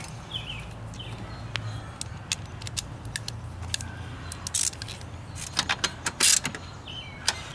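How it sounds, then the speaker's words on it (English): A ratchet with a 10 mm socket turns the seat-mounting bolts for Ford Ranger bucket seats in a Jeep Wrangler YJ, giving short, intermittent bursts of close metallic clicking over a low steady background hum. "Get my ratchet."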